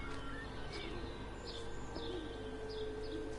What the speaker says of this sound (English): not all the birds are dying, because you can still hear them chirping in the background.